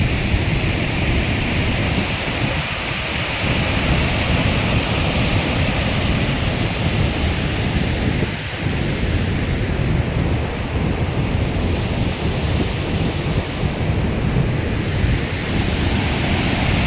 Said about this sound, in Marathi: पण बघा किती जोरात पाणी चालू आहे